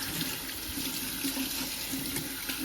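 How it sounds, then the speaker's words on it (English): Tap water runs steadily into a sink while a reusable Cera coffee dripper filter is rinsed out, a continuous close splashing wash with no talking. "And then we're just gonna rinse it out."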